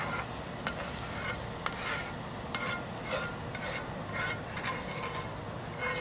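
Translucent onions hit a hot pan and sizzle in a continuous close hiss, with a few soft clicks and scrapes as they settle in while cooking off grid for a homemade meat sauce.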